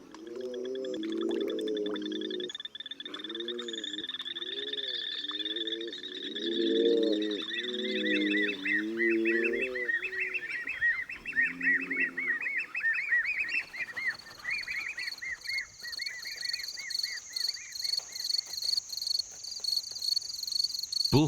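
Courting bullfrogs call at night in deep, pulsing croaks, answered by high shrill insect-like trills that build into a rapid rhythmic chorus.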